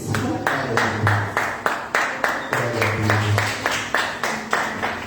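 Steady rhythmic clapping from a congregation at a church service, beating about twice a second over low singing or music that continues underneath.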